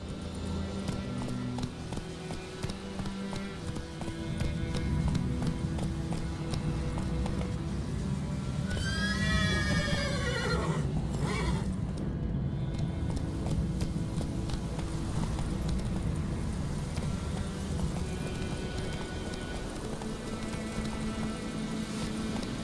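A horse gallops in the video game The Witcher 3, hoofbeats pounding steadily for over twenty seconds beneath game music and ambience, with a brief whinny partway through.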